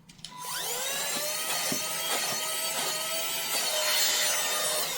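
A cheap, single-mode plastic vacuum cleaner, ordered for about twenty dollars, whines loudly and steadily up close, its motor pitch wavering and shifting as it runs continuously with no talking.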